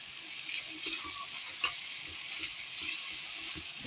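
Beef and peppers sautéing in oil and ghee in a pan, a steady close sizzle with occasional soft stirring scrapes and clinks.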